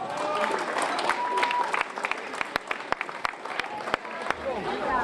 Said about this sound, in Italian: un bel applauso ancora per i primi 10 concorrenti